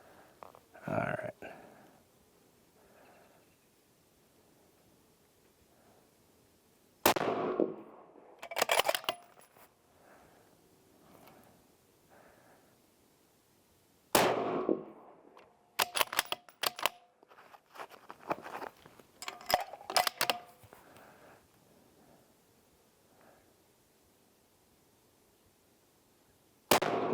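Rifle shots fired at a 25-yard range while zeroing, several sharp loud cracks spaced apart with echoing tails, separated by quieter stretches of movement.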